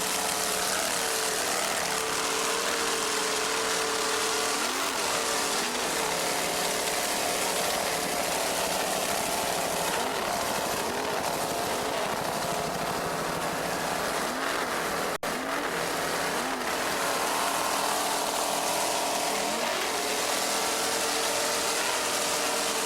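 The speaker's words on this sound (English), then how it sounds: "Let's listen to those two 610 horsepower Chevy inboards." Two 610 horsepower Chevy inboard engines roar on a racing boat, a loud continuous drone with shifting harmonic pitch as the boat runs, steady and close throughout with no talking.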